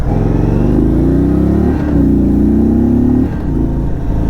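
A 2022 Indian Super Chief Limited motorcycle engine idles loudly close by, then revs up in rising pulls, easing back between them.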